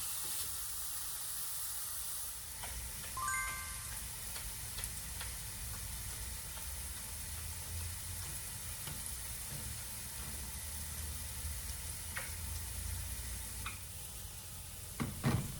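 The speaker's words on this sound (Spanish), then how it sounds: "Aquí estuve preparando unos huevitos revueltos con calabacín picado" Scrambled eggs with chopped zucchini fry in a pan, giving a soft, continuous sizzle with low background rumble, occasional light clinks and scrapes of stirring, heard close and quiet without talk.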